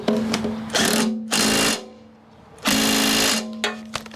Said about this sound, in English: We're gonna rip this down real quick with an impact.